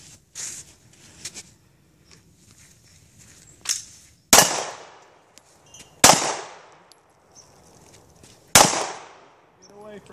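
Glock 43 pistol with Talon grips fired at an outdoor range: three sharp, loud shots spaced about two seconds apart, each with a decaying echo tail, preceded by quieter handling noises and brief talk.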